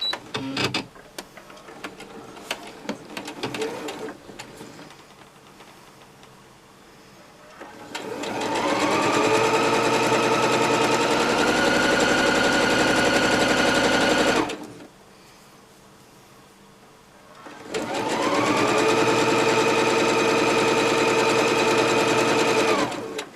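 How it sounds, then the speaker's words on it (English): A sewing machine running a stitch partway down scrunchy fabric in two long loud bursts of whirring, with quieter handling noises before and a pause between the runs. "just run a stitch down it, part the way down it"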